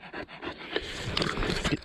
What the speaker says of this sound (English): When your dog's blowing like that, you've got to stop.